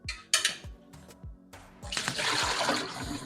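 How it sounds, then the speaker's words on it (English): Water poured into a cooking pot holding saltfish for a Jamaican pumpkin dumpling dish, opening with a few clanks of the pot before a steady splashing pour takes over, close by and moderately loud. "Take out the saltfish and put in some water now."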